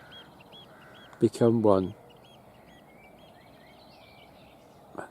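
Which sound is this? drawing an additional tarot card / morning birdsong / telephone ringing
morning birdsong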